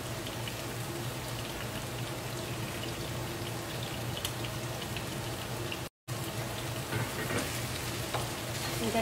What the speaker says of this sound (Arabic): نقلبها شوية بس حتى تطلع ريحة الثوم